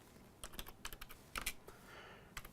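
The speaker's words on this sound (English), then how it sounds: "I'm going to type this command." Short, irregular bursts of keystrokes on a computer keyboard as a Linux disk-cloning command is entered, crisp and close, with brief pauses between clusters of clicks and no talking.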